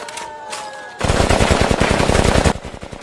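Film gunfire as villagers are shot, a sustained loud burst of rapid automatic machine-gun fire, dense cracking shots lasting about a second and a half before cutting off.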